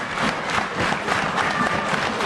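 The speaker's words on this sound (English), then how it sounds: "These idiots clapping." A crowd at a live independent wrestling show claps steadily, a dense, loud patter of applause that carries on without a break.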